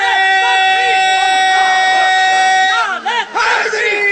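A large gathering at a Jashn-e-Ghadeer religious celebration chants a slogan in loud unison, voices held in long sustained tones before breaking into rising shouts.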